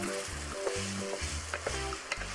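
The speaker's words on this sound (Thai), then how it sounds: "ผัดด้วยไฟปานกลางไปเรื่อยๆจนกว่าลูกชิ้นของเราเนี่ยจะสุกดีนะคะ" Meatballs crackle and sizzle in red curry paste as a pan is stirred over medium heat, with rhythmic scraping of a utensil and steady frying noise up close.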